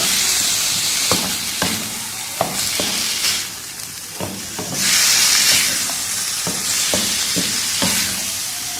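500 grams of finely chopped chicken fries in a pan for a spicy chicken spaghetti, a steady sizzle and hiss broken by regular clacking stirs of a spoon against the pan, with a louder burst of steam midway.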